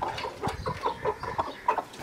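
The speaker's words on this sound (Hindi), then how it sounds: "ये देखें जी किस तरह मुर्गियों को बुला रहा है ये" An Aseel rooster makes a run of short, repeated clucking calls to draw its hens down, close and fairly loud, in a quick uneven rhythm with a few sharper notes.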